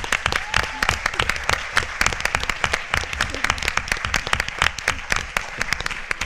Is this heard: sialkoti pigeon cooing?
no